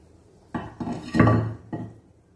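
A lid is lifted off a pot of boiling egg kurma, giving several close metallic clanks and knocks of cookware over roughly two seconds, with one louder clattering scrape in the middle.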